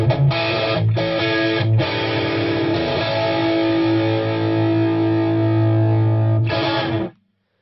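A Marshall Vintage Modern or Silver Jubilee 100-watt halfstack guitar amp with an extra preamp tube engaged for high gain roars with thick, sustained distorted chords, a few choppy stabs at first, then a long held crunch that stops abruptly.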